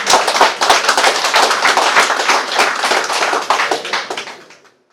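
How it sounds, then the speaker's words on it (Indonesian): Audience applause at an engineering professional oath ceremony at Universitas Indonesia's Faculty of Engineering, a dense, loud burst of many hands clapping that holds steady for several seconds before fading out. "Mari beri tepuk tangan."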